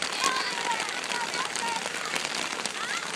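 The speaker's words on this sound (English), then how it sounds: "They're out in the pouring rain." Pouring rain falls on a softball field as a steady, dense broadband hiss with scattered crackling drops, with faint voices mixed in.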